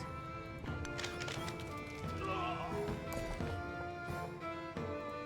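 Horses clip-clop and whinny in the video game Civilization VII, a rhythmic patter of hooves with a neigh partway through, layered over in-game music at a moderate, even level.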